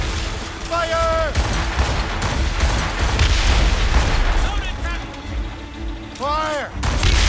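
Ship cannons fire in a naval battle in Assassin's Creed Rogue, a steady roar of booming shots and rumbling blasts over churning water, with shouted voices cutting through the din.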